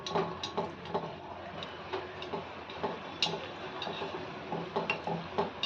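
A skimmer stirring hot oil while gulab jamun fry, with soft irregular ticking and tapping of metal against the pan over a low sizzling bed, fairly faint and close.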